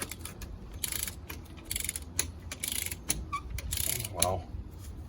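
A torque wrench tightens lug nuts on a vehicle wheel, giving rapid rhythmic ratcheting clicks in short bursts with pauses between them, close and clear.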